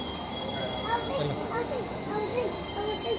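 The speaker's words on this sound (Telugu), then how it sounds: "వింబిల్డన్ ట్రైన్ వచ్చేసింది." A London Underground train on the Wimbledon line pulls into the station, a steady rumble with high whining tones and wheel squeals, fairly close; a voice speaks over it.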